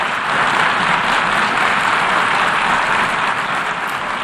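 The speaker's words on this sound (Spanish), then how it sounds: "el representante de Palestina aplaudiendo complacido" Dense, sustained applause fills a UN assembly hall, with the Palestinian representative among those clapping, a steady broadband roar of many hands lasting throughout without any speech.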